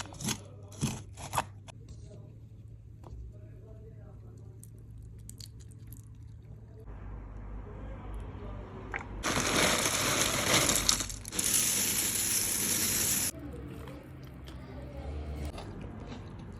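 Jhalmuri, a spicy puffed rice snack, being tossed and mixed in a bowl, with soft crunching and rustling that turns into a louder, brighter stretch of vigorous mixing midway, close up.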